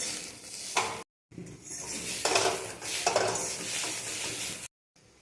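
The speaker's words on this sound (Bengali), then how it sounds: "কাঁচা লঙ্কা রসুন কুচি দিয়ে ভাজছি।" Chopped garlic and green chillies frying in a pan, giving a steady sizzle broken by the scrape and clink of a utensil stirring against the metal, with two brief gaps of silence.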